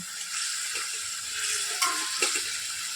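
Mutton being sautéed in a pot for biryani, a steady close sizzle of meat frying with occasional scraping stirs and clinks of a spoon against the pot.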